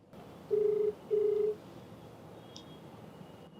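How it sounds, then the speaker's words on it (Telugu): Telephone dialing before calling someone: two clear electronic tones, each roughly half a second long, separated by a short pause, then a faint blip over quiet room hiss. "మరి నెంబర్ ఇచ్చారు, కాల్ చేస్తానండి."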